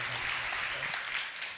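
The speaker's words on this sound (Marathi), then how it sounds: "टाळी वाजवा।" Audience clapping at a Shiva Purana katha, a steady crowd applause sustained throughout at moderate level with no voices over it.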